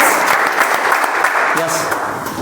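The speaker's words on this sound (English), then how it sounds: "Give round of applause." A meetup group gives dense, continuous applause that holds at an even level throughout, with a faint voice briefly audible partway through.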